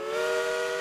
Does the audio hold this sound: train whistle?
yes